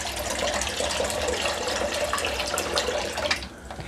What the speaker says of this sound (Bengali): কড়ার মধ্যে অনেকটা পরিমাণ জল গরম হওয়ার জন্য দিয়ে দিতে হবে